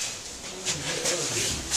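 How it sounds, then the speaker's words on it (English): Pigeon-like birds coo and call softly in short repeated bursts at a moderate distance, heard alone with no talk over them. "They're birds."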